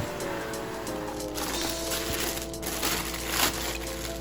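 An Adidas Yeezy Boost 350 V2 Cinder shoe box being opened produces crinkling cardboard and paper rustles with a few scuffs, close and fairly quiet, with no talk.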